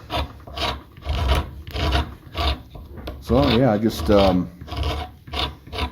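Rasping hand scraping along the rotten edge of a black locust wood slab, in repeated close strokes, with someone briefly talking over part of it.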